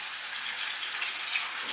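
Tap water runs steadily for hand washing in a kitchen, an even close-up hiss of splashing flow with no pauses.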